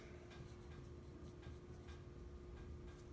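Hand-writing on a surface during a math lesson on graphing quadratic functions, a steady scratchy pen or marker stroke with brief bursts, close and fairly quiet, with no talking.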